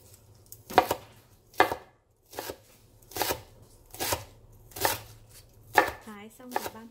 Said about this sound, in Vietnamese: Hoặc là các bạn có thể băm.